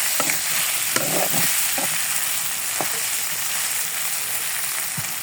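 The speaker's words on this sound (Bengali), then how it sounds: "এখন আমি একটু পর পর নেড়ে দিব।" Taki fish frying in a pan, a steady loud sizzle with scattered scraping stirs from a spatula throughout, no voices.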